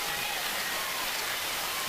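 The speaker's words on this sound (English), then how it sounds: "it's raining harder than it's rained all night" Heavy rain pours down during a night high school football game between Conway and Greenwood, a dense, steady hiss of downpour that fills the whole moment without a break.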